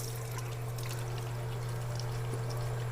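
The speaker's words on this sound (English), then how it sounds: "now I'm going to fill it up with water. And I've got hot water in here." Hot water pouring in a steady close stream into the small water tank of a Samsung Jetbot robot mop, a continuous soft trickle over a low constant hum.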